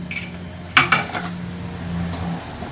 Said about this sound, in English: I'm going to mix this together